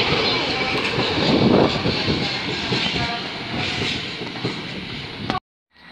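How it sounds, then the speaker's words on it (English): A British Rail Class 158 diesel unit passes through Doncaster station, heard as a loud sustained rumble with rhythmic wheel clatter and rail noise that fades toward the end and cuts off abruptly. "This is 158794 forming the 1350 service to Sheffield."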